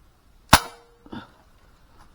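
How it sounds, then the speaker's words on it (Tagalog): A single sharp gunshot cracks out loudly while hunting tiksay birds outdoors, followed about half a second later by a softer secondary knock, then quiet. "Guys, unang putok natin."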